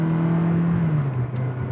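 Ferrari 360 Modena engine idling steadily with a smooth, even hum and a slight dip in pitch partway through, close and continuous, with no one talking.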